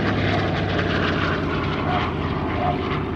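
Continuous droning of a propeller aircraft engine at the Melun Villaroche airshow, loud and steady throughout with no voices.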